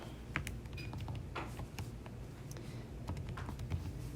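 Rapid, irregular clicking of keys as an equation is entered on a graphing calculator, small sharp taps close to the mic with no one speaking.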